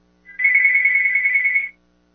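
A telephone ringtone sounds once as a steady electronic trill of about a second and a half, fairly loud and close, alone with no talking.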